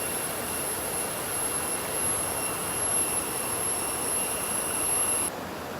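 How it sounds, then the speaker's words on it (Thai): Water pours off a cliff face in a steady, loud, broadband rush that holds constant throughout, then drops slightly near the end. "น้ำไหลออกจากหน้าผาเนี่ยเย็นแห้งพี่น้อง"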